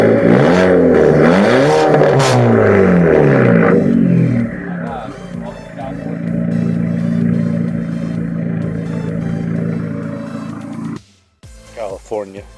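A Mk5 car with an aftermarket exhaust revs loudly up close, with rising and falling sweeps of engine roar that settle into a steady drone before cutting off, followed by a few short blips.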